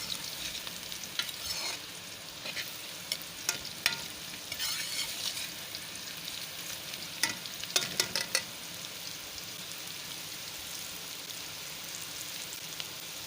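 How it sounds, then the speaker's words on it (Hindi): Bitter gourd (karela) pieces frying in oil in a pan, a steady sizzle broken by repeated scraping and clattering stirs, close and moderately loud. "करेले फ्राई होने वाले हैं"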